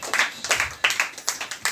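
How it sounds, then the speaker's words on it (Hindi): A church congregation claps loudly in praise of the Lord: sharp, rhythmic claps repeating about three times a second, full and close, with no talk over them. "जोरदार ताली से प्रभु धन्यवाद करिए।"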